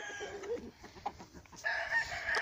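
Several roosters crow at a gamecock breeding farm, overlapping calls with clucking in between, the loudest crow sustained near the end, close and clear with no talk.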